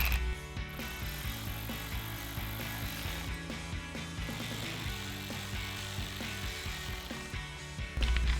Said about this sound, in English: tighten the ones on the end with our 7mm socket